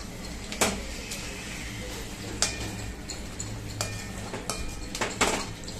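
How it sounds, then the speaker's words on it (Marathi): Pav bhaji vegetables being mashed in a pan bring repeated sharp metallic clacks and scrapes of a masher against the pan at an uneven pace over a low cooking hiss. "आता आपण हे थोडंसं स्मॅश करूया"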